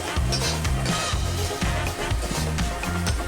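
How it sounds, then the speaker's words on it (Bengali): Ginger being stirred in a cooking pan while making potol maharani, a Bengali pointed-gourd dish: a steady back-and-forth scraping of the utensil in the pan with a soft sizzle underneath, close and continuous, with a low rhythmic rumble. "এটা আমি দু থেকে তিন মিনিট একটু নাড়িয়ে নিচ্ছি ভালো করে"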